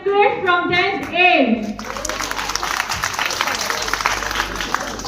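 An audience at a school farewell party bursts into dense, sustained applause right after a voice finishes speaking, the clapping filling the room steadily until the end.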